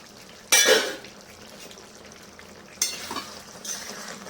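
A lid lifted off a pot of simmering prawn and mixed vegetable curry, a sudden metallic clatter followed by a burst of steamy sizzle, then more clinks of utensils against the pot.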